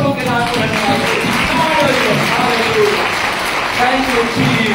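Church congregation at a Sunday service clapping in praise, a steady mass of hands clapping under a voice talking or singing over it.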